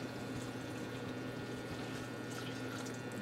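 Hot water is poured into a bean pot of beans with apples, a steady soft liquid pour with a faint trickle, fairly quiet and constant, with no voices.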